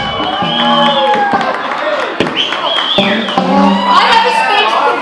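A crowd at an 80s-themed 60th birthday party claps, cheers and whoops, with a lively, dense mix of applause and shouted voices close by, while people talk over the noise.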